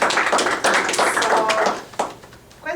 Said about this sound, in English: Another round of applause to our panelists